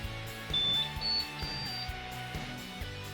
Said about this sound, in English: I heard the happy little beep that my printer makes